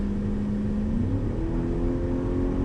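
A steady engine drone rising slightly in pitch as a 2020 Ford F-250 XLT FX4 pickup truck accelerates to highway speed, with constant road and wind noise throughout.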